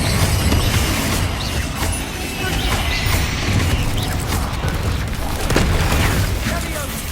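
A Confringo blasting spell goes off in Hogwarts Legacy, giving loud, dense explosive booms and crackling bursts that fill the whole stretch.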